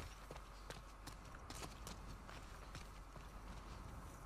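Faint irregular hoof clops of a horse in The Last of Us 2, scattered soft thuds over quiet background noise, no voices.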